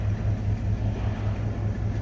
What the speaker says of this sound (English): Nice, quiet, smooth running Buick.